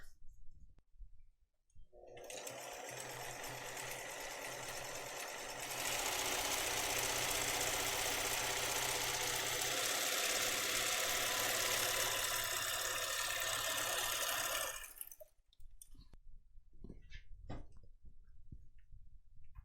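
Sewing machine topstitching along a pressed seam on a purse-size tote, a steady mechanical run starting after a short pause, growing louder and more intense midway, then stopping abruptly, with a few light handling sounds afterward.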